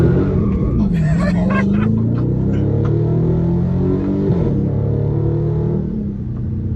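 A Dodge Daytona 392 engine rumbles loudly from inside the cabin while driving, its pitch rising and falling through revs, with passengers talking over it throughout.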